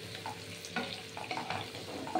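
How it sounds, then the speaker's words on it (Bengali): Onion frying in raw oil for a Bengali prawn dish, a faint continuous sizzle broken by light stirring scrapes and small pops, with no talking. "পেঁয়াজটা যখন ভাজা ভাজা হবে"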